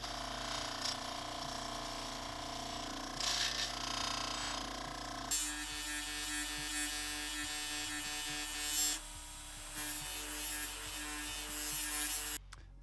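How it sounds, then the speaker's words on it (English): A rotary Scotch-Brite wheel polishes a dirt bike engine crankcase, giving a steady high buzzing whir with abrasive grinding texture that shifts in pitch and load as it is pressed and moved, no talking. "I'm going to try the more aggressive Scotch-Brite wheel and see if I can smooth some of that out"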